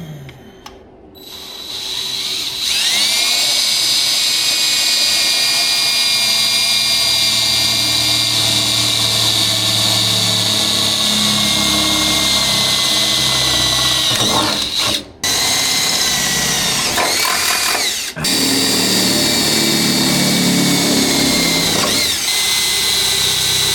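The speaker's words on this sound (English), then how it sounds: "just going to drill some holes for my riv nut" Power drill boring holes for rivet nuts on a 1960 Chevrolet Impala, a steady high whine running loud and close for about twenty seconds, cut by two brief stops near the end.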